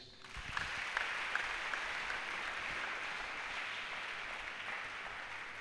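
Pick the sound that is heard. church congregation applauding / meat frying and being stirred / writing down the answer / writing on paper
church congregation applauding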